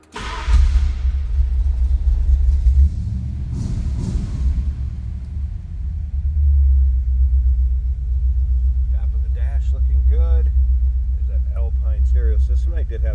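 A 1975 Ford F-100 regular cab shortbox pickup truck starts up and settles into a loud, steady low engine rumble. Someone talks over the idle near the end.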